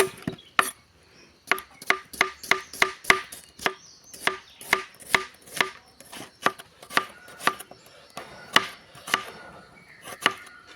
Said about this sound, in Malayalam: സവാള ഒന്ന് കട്ട് ചെയ്തെടുക്കാം.